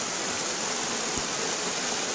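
Steady rushing water roars without a break, like a waterfall close by, a dense broadband wash with no other sounds standing out, at a hot-spring waterfall on the Gede Pangrango mountain trail.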